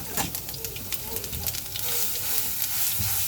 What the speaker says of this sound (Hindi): इसको अच्छी तरह 1 मिनट इसको भून लेंगे।